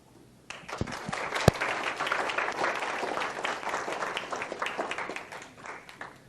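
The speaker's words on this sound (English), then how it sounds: "It's always good that you applaud before you hear me." An audience applauds a speaker introduced before a talk on couple therapy, starting with a few sharp claps that swell into steady, sustained clapping lasting several seconds.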